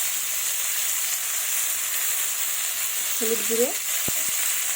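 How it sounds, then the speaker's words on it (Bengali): Potatoes sizzle steadily in hot oil with salt and turmeric, a constant loud frying hiss that runs throughout, with a brief spoken phrase and a couple of light utensil taps near the end. "আলুগুলোকে ভেজে নেব।"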